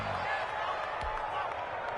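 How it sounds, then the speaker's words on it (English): An American football stadium crowd roars in a dense, steady wash of cheering that fills the whole stretch, with a faint thump partway through. "Crowd getting in it a bit already."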